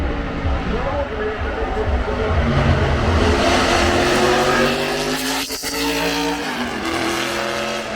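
A Lancia T50 racing car drives past at the Goodwood Festival of Speed, its loud, close engine howling with rising and falling pitch as it accelerates, and a voice can be heard under it.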